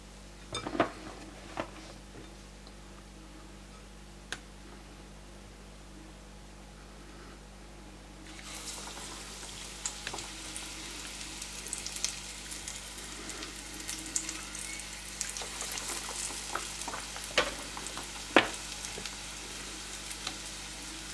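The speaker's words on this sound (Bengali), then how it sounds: "এখন আমি সুকিনি দিয়ে দিচ্ছি" Zucchini slices dipped in batter frying in hot oil: a steady low sizzle that suddenly swells into a louder, bright crackling fry, with occasional clinks of utensils.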